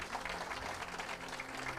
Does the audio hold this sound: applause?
yes